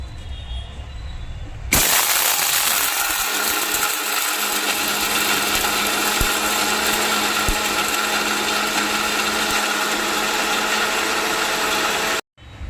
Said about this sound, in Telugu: ఇది మిక్సీకి వేస్తాను.